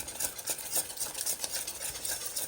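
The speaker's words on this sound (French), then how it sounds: "Je continue à brasser pour pas que ça me colle dans le fond." A utensil scrapes steadily around a pot of boiling maple syrup pie filling, with rhythmic stirring strokes over a soft bubbling sizzle, close and moderately loud.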